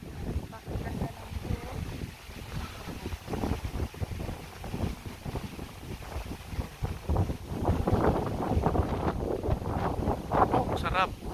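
Strong wind gusts across an open hillside at a paragliding launch site in Binangonan, Rizal. They buffet the microphone in rough, uneven bursts that swell louder toward the end, while people talk nearby.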